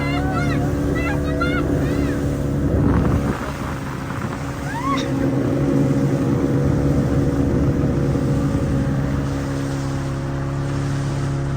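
Motorboat on water, a steady close engine drone with splashing and wind, while people talk and call out over it.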